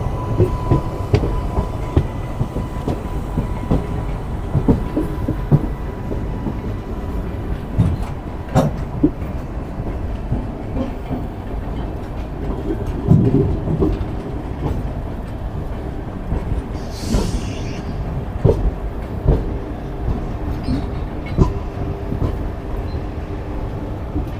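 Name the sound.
train departing from platform number 1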